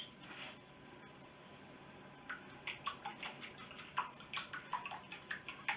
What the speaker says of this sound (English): I'm just whisking it together now at this point. That's the noise that you're hearing